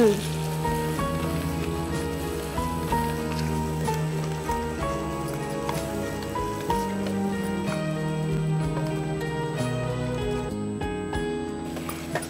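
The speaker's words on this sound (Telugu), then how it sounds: "ఆయిల్ వేడాక ఫస్ట్ కరివేపాకు, ఉల్లిపాయలు. అది కొంచెం బ్రౌన్ కలర్ వచ్చే కొద్దిగా వేయించాలి." Curry leaves and onions fry in hot oil on a cooking show, a steady close crackling sizzle running throughout under a continuous bed of background music.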